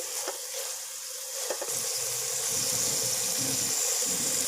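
Chicken pieces sizzling in a hot pan while cooking chicken macaroni, a steady broadband frying hiss that grows louder after a couple of knocks partway through, with low stirring clatter underneath.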